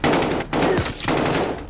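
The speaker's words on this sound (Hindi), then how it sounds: "मुझे छुपना है क्योंकि अंधाधुंध गोली चला रहा है पागल आदमी" Rapid gunfire from the Call of Duty Modern Warfare video game, loud bursts of shots broken by brief pauses, with no talk over them.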